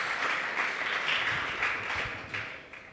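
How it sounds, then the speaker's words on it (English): Conference audience applauding a panel, a steady broadband wash of clapping that holds for the whole stretch at moderate level, thinning slightly toward the end. "I'll invite you to give us a round of applause for that"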